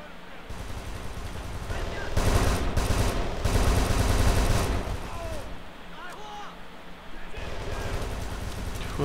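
Gunfire in Kane and Lynch 2 comes in dense, loud bursts of shooting, swelling midway and easing off again, mixed with in-game chatter and other game noise.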